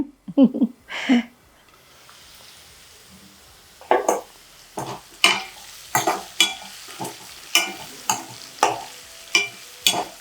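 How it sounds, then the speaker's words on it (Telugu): Ivy gourd fries in a pan as a utensil stirs it, producing a regular series of scraping strokes over a faint sizzle, following a short burst of speech at the start. "దొండకాయ వేపుడు అయిపోయింది మనకి"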